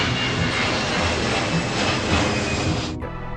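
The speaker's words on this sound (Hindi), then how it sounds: "जब कोई 787 ड्रीमलाइनर का प्लेन इस तरीके से आपके ऊपर से गुजरेगा, उसकी आवाज अलग आती है।" A Boeing 787 Dreamliner passes overhead with a loud, steady broadband engine roar that holds for about three seconds, then cuts off abruptly as a played recording stops.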